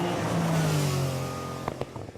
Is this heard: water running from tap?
no